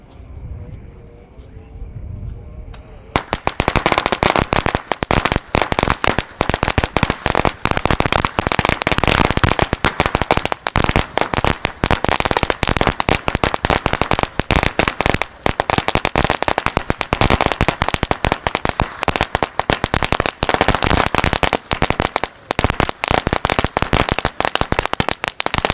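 A 2.5-meter string of Betawi firecrackers goes off at night in a loud, dense, continuous crackle of rapid bangs lasting over twenty seconds, after a brief quieter lead-in.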